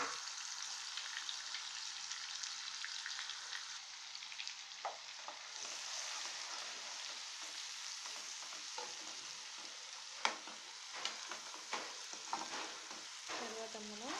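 Ground onion paste sizzles in hot oil in a pan for a Telugu fish curry, with a steady bright crackle under occasional scraping and stirring clicks.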